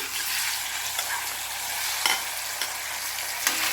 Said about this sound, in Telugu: మిగిలిన కాకరకాయ ముక్కలు కూడా వేసుకుందాము